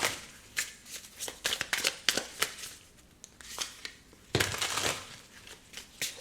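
Tarot cards drawn from the deck and laid out, a close run of crisp slides, flicks and papery rustles with a louder shuffle burst near the end.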